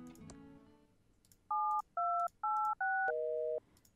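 Five electronic phone dialing tones sound in quick succession from a cell phone in the video game Thimbleweed Park, each a clear, loud dual-pitch beep, the last held slightly longer.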